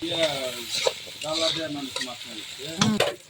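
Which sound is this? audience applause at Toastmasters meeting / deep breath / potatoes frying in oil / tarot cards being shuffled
potatoes frying in oil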